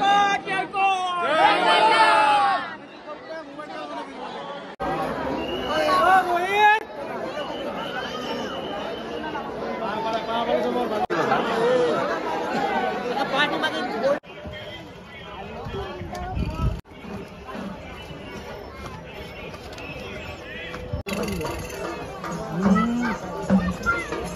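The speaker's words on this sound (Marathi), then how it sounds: "मुखदर्शनाला सुद्धा भरपूर गर्दी झालेली आहे बघा." Dense crowd of pilgrims chattering at a busy hill temple, a loud continuous babble of many voices with occasional louder shouts close by, running throughout.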